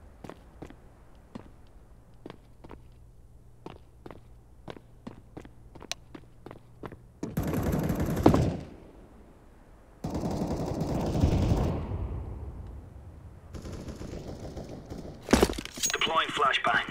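Gunfire in Metro Exodus: a string of evenly spaced light ticks gives way to several loud, harsh bursts of shooting close by, with voices speaking over parts of the action.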